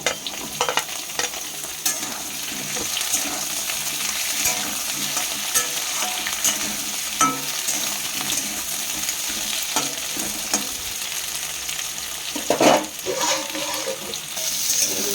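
Vegetables (onion, potato, pumpkin, radish and eggplant) with small dried shrimp frying in oil, a steady close sizzle with scraping stirs throughout and a brief louder burst near the end.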